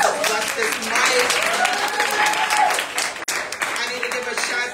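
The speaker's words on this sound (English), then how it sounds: "Let's give a round of applause to all of us this night." Audience applause at an open mic poetry reading in a bar, a steady dense wash of clapping that holds throughout with a brief dip near the end.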